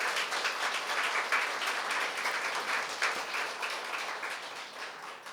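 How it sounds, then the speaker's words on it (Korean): At a Korean church worship service, a congregation gives a round of applause, moderately distant and steady, a soft even patter that fades a little at the end. "우리 새누리 팀들 우리 감사하다는 마음으로 우리 큰 박수 한번 다시 한번 보내주세요"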